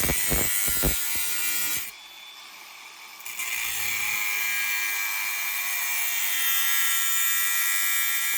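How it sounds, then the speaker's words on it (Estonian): A power tool cuts through a metal pipe for a homemade smoke generator, a bright high whine with a few rapid knocks at the start, a brief drop in pitch, then a sustained steady grinding screech, close and loud. "Me lõikame kusagil poole toru peale."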